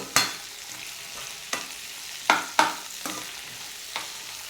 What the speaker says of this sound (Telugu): ఈ టమాటాలను కూడా ఈ ఆయిల్లోనే కొంచెంసేపు మగ్గనిద్దాము